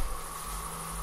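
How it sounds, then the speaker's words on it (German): Crickets chirp steadily outdoors at night, a constant high insect drone with a low hum underneath and no voices. "die zirpen, die grillen"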